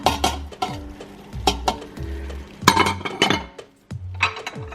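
Spinach, marinade and cooked beef for Korean japchae are tossed together in a glass bowl, giving repeated soft wet squelches and clinks of utensils against glass in an irregular rhythm, close and fairly quiet.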